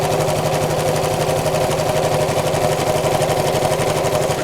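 A sewing machine stitches fabric pennants onto a drawstring beach bag, a fast, steady mechanical whirr with rapid rhythmic needle chatter, close and continuous.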